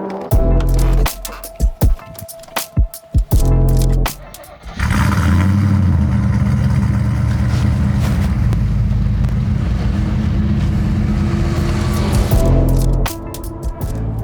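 A race-bred Holden car's engine revs up and pulls hard while driving, a loud sustained roar from the cabin after some short bursts and knocks at the start.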